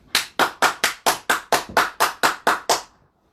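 A single person claps hands, twelve sharp, evenly spaced claps at a brisk steady pace that then stop into quiet.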